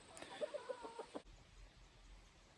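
Backyard chickens give a short string of soft, low clucks close by, then fall quiet under faint outdoor background noise.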